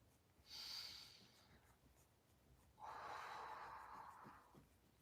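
Two slow, deep breaths during a yoga flow, a brief inhale followed by a longer, fuller exhale, close and soft with a quiet room behind them.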